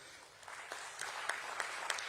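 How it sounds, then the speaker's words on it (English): Applause at a stock-listing ceremony for Jio Financial Services during a memento presentation, fairly faint clapping with a few sharper individual claps standing out, heard from a distance for about two seconds. "We can have a round of applause."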